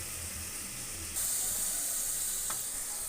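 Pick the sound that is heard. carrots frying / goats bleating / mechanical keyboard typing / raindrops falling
carrots frying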